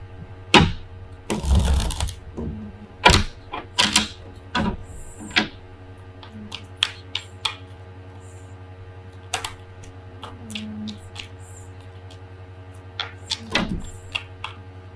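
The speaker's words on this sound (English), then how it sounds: "Too many cards fell out here, so I'm going to put them back." Tarot cards are handled and slid back into the deck, giving scattered soft shuffles and sharp taps over a low steady hum, with a brief louder riffle near the start.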